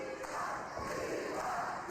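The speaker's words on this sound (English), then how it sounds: "Devon chants break out." A wrestling crowd at a 2006 TNA house show chants "Devon" in unison, a steady, dense roar of many voices filling the arena with no commentary over it.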